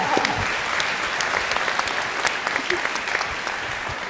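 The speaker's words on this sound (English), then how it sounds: "let's give another round of applause for our guest." Audience applause for a guest at a live morning event, a steady wash of many hands clapping that holds at even strength throughout, with no voices standing out.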